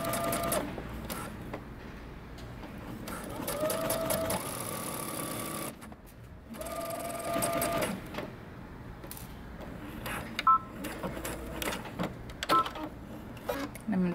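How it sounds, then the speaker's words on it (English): A sewing machine stitches and backstitches a coat seam in bursts of rapid, even whirring, pausing briefly between runs, with occasional quiet clicks and handling sounds. "I'm gonna stitch and backstitch"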